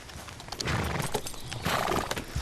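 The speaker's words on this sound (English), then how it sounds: "I called my horse, so my horse should be on the way." A summoned horse gallops up in Red Dead Redemption 2, its hooves clip-clopping loudly and close with a whinny, heard alone without talk.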